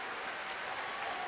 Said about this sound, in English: The crowd is going nuts.